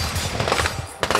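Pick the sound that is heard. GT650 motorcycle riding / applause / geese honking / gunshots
gunshots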